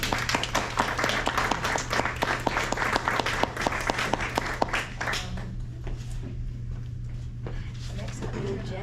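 Audience applause follows a speech at a community nature preserve annual meeting, steady clapping from a roomful of people that fades out after about five seconds, leaving a quiet room hum.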